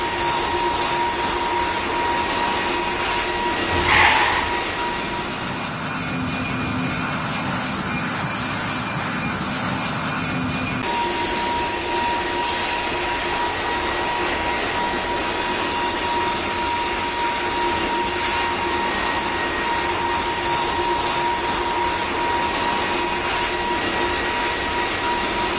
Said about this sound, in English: the steady hum of jet engines, throttling back into a low rumble.